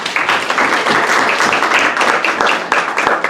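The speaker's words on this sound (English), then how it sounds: "We can clap it up." Applause from an audience at a student awards ceremony, a dense steady patter of many hands clapping close by, loud and continuous without talk.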